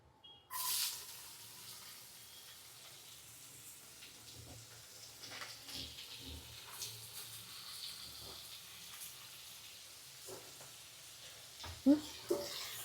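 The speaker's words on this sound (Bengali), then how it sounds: "পেঁয়াজটাকে ভালো করে ফ্রাই করব।" Chopped onion fries in a pan, giving a faint, steady sizzle with occasional stirring clatter that grows a little louder toward the end.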